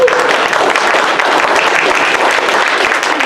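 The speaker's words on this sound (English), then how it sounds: "I think we should all give Kelsey a round of applause" A room full of people applauds steadily for a staff member at a community forum on a city college access program, dense clapping holding an even level throughout without a break.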